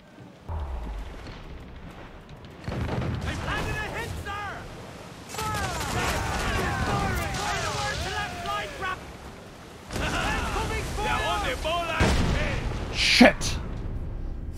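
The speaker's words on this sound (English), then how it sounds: "Sometimes you just gotta get the pistols out." Pistol gunfire from a naval battle in Assassin's Creed Black Flag, a few sharp shots amid long stretches of wind, sea and ship noise, with some bursts rising louder toward the end.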